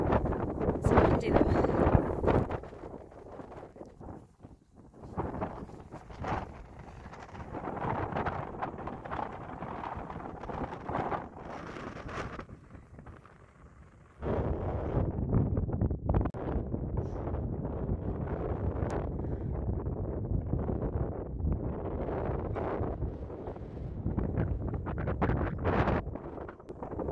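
Wind rushes across the microphone in loud, uneven gusts, dropping briefly quiet before surging again, with no talking, at a hilltop viewpoint on Birnam Hill in Scotland.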